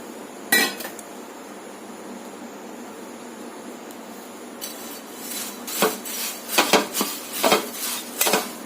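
Flattened rice (aval) dry roasts in a pan while a metal spoon stirs it, giving sharp clinks and scrapes against the pan that become rapid and rhythmic in the second half.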